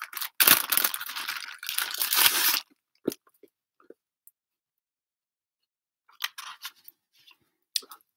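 Close, loud plastic crinkling for a couple of seconds as a book is handled in a plastic bag, then a few scattered soft rustles and taps amid quiet.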